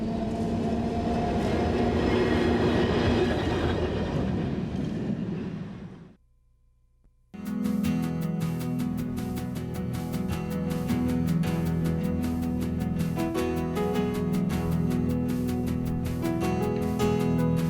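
An old-fashioned streetcar rolls along the rails with a steady rumbling, clattering ride. There is a brief near-silent gap partway through, then the rolling resumes, loud and continuous.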